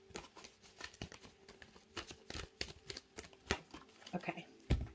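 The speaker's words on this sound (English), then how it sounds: "I'm putting it back and I'm going to shuffle one more time" Tarot cards shuffled by hand at close range, a run of quick papery riffles and soft slaps in uneven bursts, fairly faint, with no talking over them.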